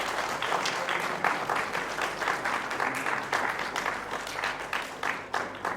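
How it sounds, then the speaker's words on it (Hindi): A theatre audience gives sustained, even applause after a Hindi stage play, with many hands clapping close and steady for several seconds and no talk over it. "अगर आपको ये नाटक पसंद आया तो एक बार फिर से ताली बजा के आप स्वागत कर सकते हैं।"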